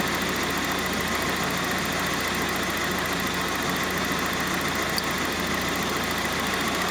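A car engine idles steadily up close, a constant low hum and rumble with no voices.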